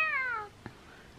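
A person imitates a cat's meow, one short drawn-out mew with a falling pitch, close and clear, followed by a tiny click and near silence.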